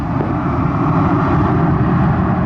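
A JetBlue airliner on approach to a wet runway at Montego Bay, Jamaica, gives off a steady, loud broadband engine roar that holds constant throughout.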